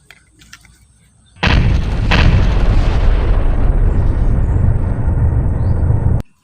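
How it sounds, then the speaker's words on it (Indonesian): A toy grenade fires its explosion sound effect: a sudden loud, harsh blast that jumps out of near-silence and holds as a roaring, crackling rumble for several seconds before cutting off abruptly. "Wow, Granat."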